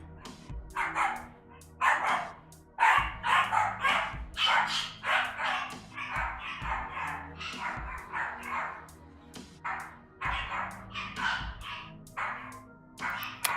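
Dogs bark repeatedly in fast, loud bursts with yips mixed in, fairly close, with continuous barking throughout and brief pauses between volleys.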